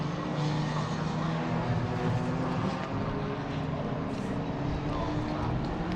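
A Lotus Esprit V8 race car on track at Donington Park, a steady distant engine drone blended with crowd and circuit ambience, fairly faint under a race commentator's voice.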